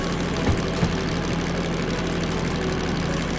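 The DM3 diesel locomotive engine in Derail Valley runs under load as a steady, low, droning rumble with a throbbing pulse, close and even, with no speech.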